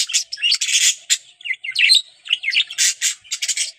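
A male budgerigar chatters and squawks in rapid, close bursts of warbling chirps and scratchy calls, bright and continuous with short gaps, alone without any talking.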